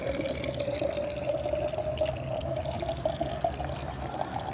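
Water drains from the pouch of a kangaroo statue, making a steady trickling, pouring flow heard up close at low volume, without speech.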